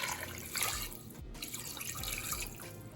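Water pours steadily from a glass into a pressure cooker pot holding mutton, a continuous close splashing trickle with no voices.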